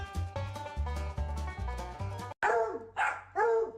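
A small dog gives a few sharp barks and yips, close and clear, following a stretch of steady tonal music-like background.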